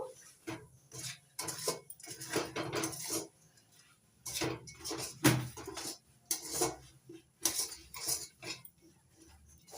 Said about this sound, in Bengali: অল্প অল্প করে মুড়ি ঢেলে দিতে থাকবো আর নাড়তে থাকবো করে গুড়ের সঙ্গে মুড়িগুলো মিশিয়ে নেব